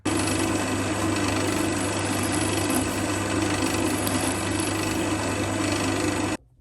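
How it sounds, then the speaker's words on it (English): A small sharp drill bit bores into the Welsh plug of a clamped chainsaw carburettor, giving a steady, loud, continuous whirring drone for about six seconds before it cuts off. "So I have the drill bit in, small sharp drill bit"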